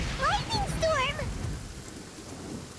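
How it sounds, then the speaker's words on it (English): Thunderstorm with rain in the video game Genshin Impact: a steady rain hiss with low rumbling carries throughout, while a voice speaks over the first second and a half before the storm continues alone. "Uh-oh! Lightning storm!"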